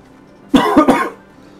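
A short fit of close, loud coughing, three quick coughs in a row, then quiet.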